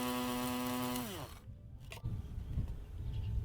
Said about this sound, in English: we're gonna grind up our peppercorn